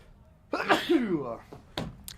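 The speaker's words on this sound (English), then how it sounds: "I have to sneeze." A single loud sneeze up close, with a drawn-in breath before it and a couple of short, sharp sounds just after.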